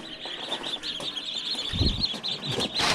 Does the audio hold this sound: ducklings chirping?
yes